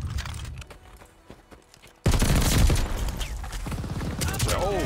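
Rapid automatic gunfire from a multiplayer shooter weapon with a new tracer pack, a quieter stretch of scattered shots giving way to a loud, sustained burst, with mechanical clicks underneath.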